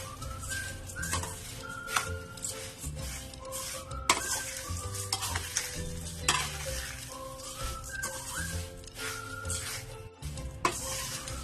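Onion poha chivda being mixed in a pan, with repeated scraping and clinking of a spoon under a light sizzle, fairly quiet and continuous throughout.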